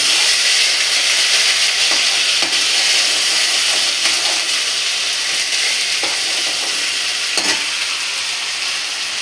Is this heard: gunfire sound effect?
no